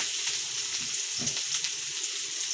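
Onions frying in a pan as the first step of a pork intestine adobo give off a steady, close, hissing sizzle that holds evenly throughout, with no talking.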